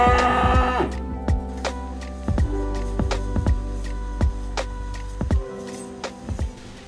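Cattle being taken in a livestock pen, with several loud, deep, drawn-out moos close by, separated by thumps and knocks of hooves and handling.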